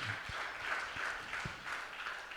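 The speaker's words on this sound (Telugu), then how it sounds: "చప్పట్లు కొట్టి దేవుని మహిమపరుస్తా." An audience claps together during a Telugu Christian sermon, giving a steady round of applause that stays moderately loud and even for a couple of seconds with no talking over it.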